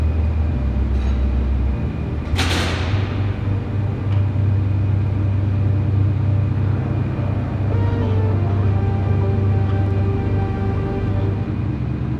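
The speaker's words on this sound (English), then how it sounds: "So let's start this and then we can drive the Raptor under." A Ford Raptor pickup truck idles and rolls slowly beneath a BendPak lift inside a shop, a steady low engine rumble close by with a brief sharp hiss-like burst early on.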